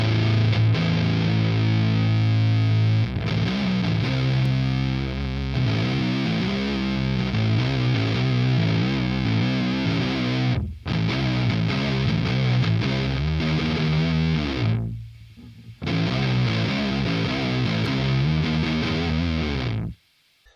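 Low-tuned electric guitar through a high-gain Amped Dual amp plays heavy, distorted nu-metal chugs and sustained chords. It is loud and continuous, with brief pauses between phrases.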